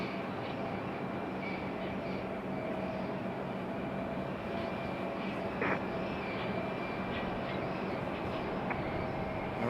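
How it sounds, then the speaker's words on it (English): A JetBlue airliner touches down on the runway at Raleigh Durham International Airport, a distant broad roar of jet engines that holds steady throughout, with no talk. "Alright, JetBlue touching down."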